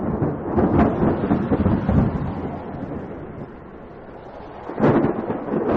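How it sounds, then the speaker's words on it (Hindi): Heavy monsoon rain pours down with deep, rumbling thunder rolling through, loud and continuous, with a fresh thunderclap swelling near the end; no voices. "उनके लिए यह पहली बारिश थी जो उन्हें किसी अजूबे से कम नहीं लग रही थी।"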